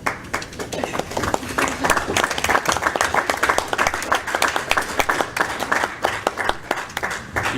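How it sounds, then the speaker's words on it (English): A room of people gives a round of applause at a community gathering, dense irregular hand claps sustained for several seconds at moderate volume, with a voice faintly present underneath. "he definitely deserves the round of applause"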